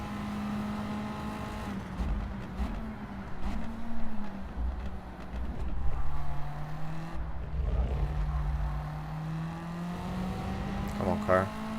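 A race car engine in a racing video game drones continuously, its pitch dipping and rising as the car brakes and accelerates through corners, while someone talks over it.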